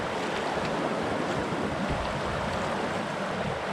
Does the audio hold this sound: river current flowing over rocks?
yes